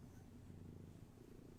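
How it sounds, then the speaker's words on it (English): A female American Shorthair cat purring steadily, a continuous low rumbling throb close up and fairly quiet, with no pauses. "she's actually purring really loudly right now."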